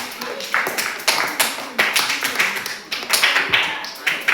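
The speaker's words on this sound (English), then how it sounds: "A clap for both for Baraka" A class of children claps together in a series of loud, rhythmic bursts of sharp taps, close by, repeating steadily and briefly overlapping with talk.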